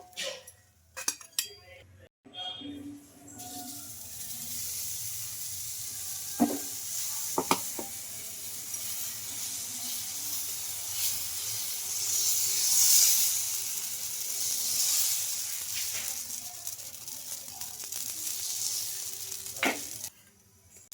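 Sago and moong dal dosa sizzles steadily on a hot pan, a continuous frying hiss throughout with occasional utensil clinks and scrapes near the start and end.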